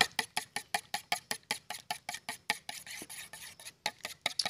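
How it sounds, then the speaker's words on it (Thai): A utensil stirs beaten egg mixed with a little light soy sauce in a bowl for Northern Thai khai pam, making quick, regular scraping strokes of about four per second, close and alone. "จากนั้นนะครับคนให้เข้ากันเลยนะครับเหมือนไข่เจียวเลยนะฮะ"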